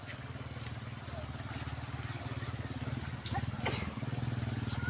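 Motorcycle fording a shallow stream in Barangay Manduag, Minglanilla, its engine putting steadily up close over running water, with a steady broadband wash throughout.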